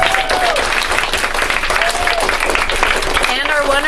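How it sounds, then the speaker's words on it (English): An audience claps after a performance, dense sustained applause throughout, with a speaking voice and some cheering or whistle-like calls riding over the clapping. "let's give them another round of applause"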